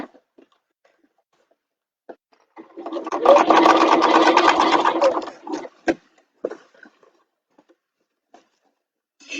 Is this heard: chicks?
no